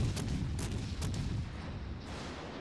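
Warship gunfire in World of Warships Legends, a small Acosta shelling the battleship Texas: a steady rumbling barrage with several sharp distant booms layered over continuous low battle noise.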